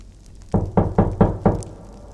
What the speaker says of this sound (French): quelqu'un frappe à la porte d'entrée de la maison de nos amis